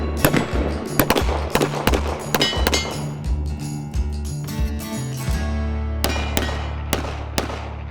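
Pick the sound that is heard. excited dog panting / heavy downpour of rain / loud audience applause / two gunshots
two gunshots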